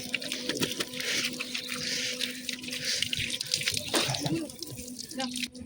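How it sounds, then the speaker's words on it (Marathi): Tap water splashes and runs steadily as feet are washed at an outdoor basin beside a cave temple, a close gurgling stream with uneven splatters and drips. "पहिला पाय धुया आपण"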